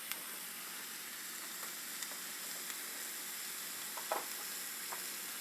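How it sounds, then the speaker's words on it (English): Food fries in a hot pan with a steady, bright sizzle, close and continuous, with a few small pops and crackles and no talking. "Sizzle, sizzle."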